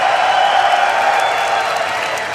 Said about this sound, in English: we can hear them when they scream because they are so loud